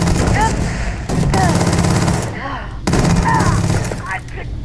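The Grendel rifle fires in Starfield in loud, rapid automatic bursts, two long volleys split by a short gap, with a voice talking over the gunfire.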